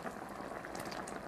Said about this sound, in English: I'm going to add some noodles or udon.